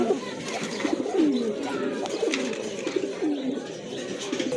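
A pair of Rajgolla pigeons of the Maxi colour coo nearby in soft, repeated rolling calls, several in succession, over faint background noise.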